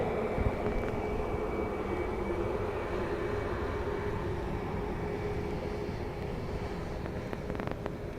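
A departing aircraft at Dublin Airport in blustery crosswinds gives a steady, broad engine roar at middle distance, mixed with wind noise and lasting the whole stretch, with no talking.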